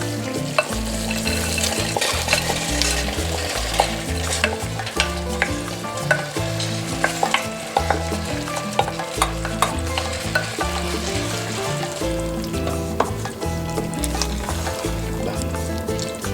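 A spoon stirs Peruvian locro de zapallo, a creamy squash stew with shelled corn just added, over a steady sizzle; scraping strokes against the pot repeat in an uneven rhythm, close and fairly loud, with no talk.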